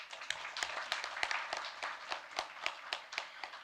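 Crowd applause with rapid, steady clapping from many hands, fairly distant and sustained without voices.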